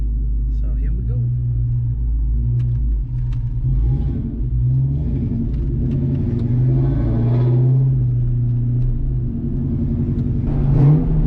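A car with recent engine bay work rumbles steadily while being driven, a low, continuous engine drone with occasional swells of acceleration, heard close from inside the cabin with someone talking over it.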